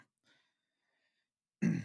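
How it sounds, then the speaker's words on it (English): After a near-silent pause, one short, sharp cough or throat-clear bursts out close to the microphone. "There goes that cough."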